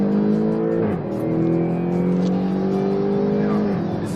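A BMW X6 M SUV accelerates hard on a track, its engine note climbing in repeated rising sweeps, loud and close, with brief dips between pulls.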